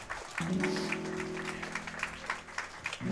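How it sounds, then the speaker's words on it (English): Audience clapping at the ESA Summer 2018 speedrun marathon after a Celeste Any% run, a soft, steady patter of applause lasting a few seconds under a sustained electronic tone. "More claps."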